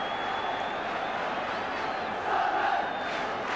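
A football crowd of nearly 32,000 at Roker Park roars continuously during a Sunderland versus Spurs match, a dense wash of chanting and shouting that swells louder toward the end.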